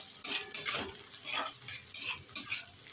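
A spoon stirs onion curry with a little sugar in a hot pan, with soft sizzling underneath and several sharp scraping strokes against the metal at uneven intervals, close and clear with no talking.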